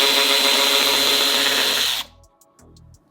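A Milwaukee 2567-22 3/8-inch cordless ratchet spins a socket to back out a bolt, one loud steady whir for about two seconds before it cuts off, leaving faint rattles and clicks.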